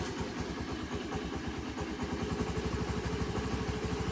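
Honda Navi motorcycle engine idling after a cold start, a rough, steady rapid putter close by with a slightly uneven beat, running alone without talk.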